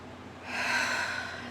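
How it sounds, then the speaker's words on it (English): A single long, audible breath, swelling and fading over about a second during a guided morning centering and grounding meditation, close and alone. "We are just doing a little breathing"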